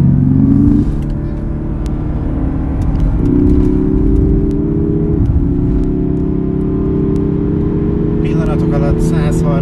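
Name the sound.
Lexus IS300h hybrid car accelerating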